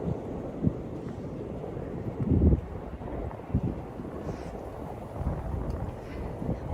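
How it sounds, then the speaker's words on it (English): Gusty wind in Ryogoku, Tokyo buffets the microphone in low rumbling bursts, rising and falling throughout without any voices. "It's so windy. I don't know if you can hear the wind"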